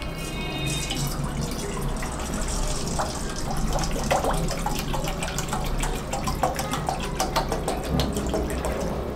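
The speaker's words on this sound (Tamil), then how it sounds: "தண்ணி ஆட் பண்ணிக்கோங்க." Water pours steadily into a kadai while cooking wheat rava kesari, with splashing and scattered drips over a constant rushing flow; no one speaks.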